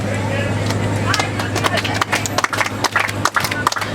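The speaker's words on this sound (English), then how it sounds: "everybody will start clapping for me like this" Ride passengers on the Jingle Cruise clap in rhythm along to a birthday song, with sharp repeated claps over steady boat hum and a voice talking or singing on top.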